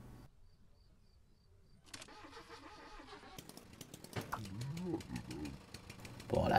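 A Trabant engine starts in the car game Jalopy: a cranking rattle builds into a buzzy two-stroke idle that grows louder and rougher. Someone talks over part of it, and the sound swells at the end.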